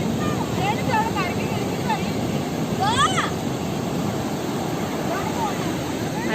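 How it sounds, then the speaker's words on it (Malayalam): Sea waves break along the shore near a river mouth, a steady broad rushing roar with wind buffeting the microphone, while birds chirp intermittently over it. "കടലിങ്ങനെ ചാടി ചാടി വരുന്നുണ്ട്."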